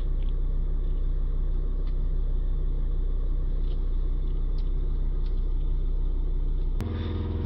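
A car engine held at around 3000 RPM, a loud steady rumbling drone that continues unbroken before shifting slightly near the end, with no voices.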